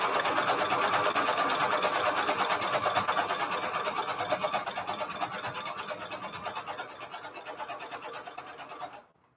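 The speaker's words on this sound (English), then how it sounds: "I'm just going to stitch all the way around." A sewing machine runs a continuous zigzag stitch around a junk journal cover made from an old book, a steady, close, rapid mechanical whir that fades slightly before stopping abruptly near the end.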